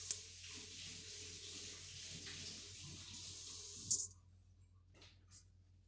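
Tap water runs steadily into a sink during handwashing, a constant close hiss that cuts off abruptly partway through, leaving a few faint clinks and drips.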